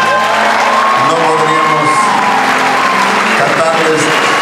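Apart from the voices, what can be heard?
concert audience applauding and cheering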